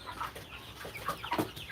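Five-week-old broiler chickens on a small-scale poultry farm cluck and chatter in short, irregular calls, fairly close and moderately quiet, over a low background hum.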